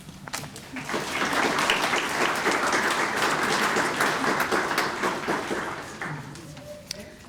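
Sustained audience applause fills a hall at a 2025 healthcare pinning ceremony as a speaker is welcomed, dense clapping swelling for several seconds before tapering off.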